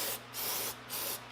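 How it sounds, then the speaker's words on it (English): Silicone spray hissing from a can onto CB750 Nighthawk carburetors, three quick close bursts of hiss with short pauses between. "silicone spray."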